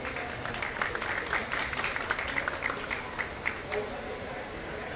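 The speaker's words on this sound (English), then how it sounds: "Round of applause for Mary, please." A room of people at an environmental conference event gives a welcoming round of applause, a dense, steady patter of many hands at moderate distance, with a voice or two faintly mixed in before it thins out near the end.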